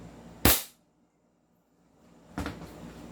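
Two sharp shots from an SRC John Wick Pit Viper full-steel airsoft gun during a chrono test, each a loud crisp crack with a brief tail, separated by about two seconds of near silence.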